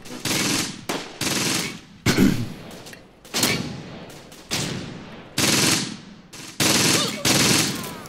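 Gunfire in a WWII battle video game at Caen sounds as repeated bursts of machine-gun fire in rapid volleys, separated by brief pauses, loud and close throughout.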